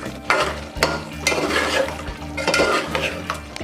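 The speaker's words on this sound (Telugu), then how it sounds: "ఇప్పుడు దీంట్లో ఇంత గరం మసాలా, అట్లనే ఇంత ధనియాల పొడి ఇది వేసి ఇప్పుడు మంచిగా కలుపుకుందాం." Gongura chicken curry with garam masala and coriander powder is stirred in a pot, producing loud, close scraping and clattering strokes of a spoon against metal over a faint simmering sizzle, with no voices.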